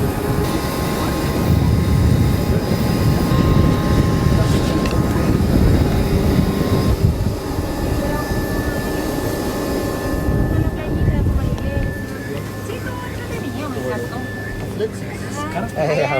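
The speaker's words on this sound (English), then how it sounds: "the Avro jet right behind me" Avro regional jet engines whine and roar loudly at close range on an airfield in Punta Arenas after an Antarctic flight, a steady broadband rumble with tonal whistles, heard beneath someone talking nearby.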